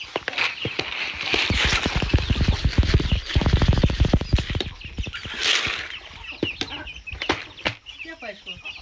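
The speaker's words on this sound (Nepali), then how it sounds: "कुखुराहरू चाहिँ आएर चारो मागिरहेको भएर चारो दिँदैछु।" Chickens cluck busily up close amid rapid pecking and rustling of feed, while a person speaks now and then.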